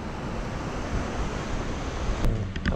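Ocean waves wash onto the shore at Laem Mae Phim on the Thai coast, a loud, continuous surf rush mixed with gusty wind buffeting the microphone.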